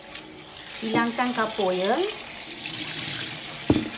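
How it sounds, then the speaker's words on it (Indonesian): Tap water runs steadily into a sink while noodles are rinsed before cooking Hainanese-style noodles with chicken, a continuous close splashing flow with a voice speaking over part of it. "Cuci mi sebanyak 2 kali."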